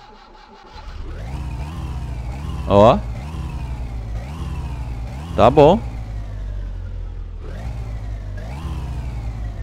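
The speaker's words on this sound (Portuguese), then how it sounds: "será que eu acelero o carro? Cara, vou, vou dar uma aceleradinha, né?" In the game My Summer Car, a car engine cranks and catches, then settles into a steady idle broken by two short, loud revs. Someone speaks briefly over the engine.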